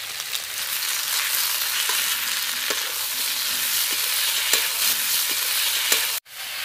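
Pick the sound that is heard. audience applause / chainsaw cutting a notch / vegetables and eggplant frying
vegetables and eggplant frying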